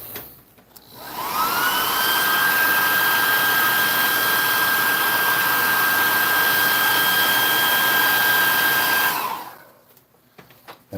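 Hot air gun drying paint on a miniature, switched on with a rising whine and then a loud, steady blowing roar held for about eight seconds before cutting off, close and alone.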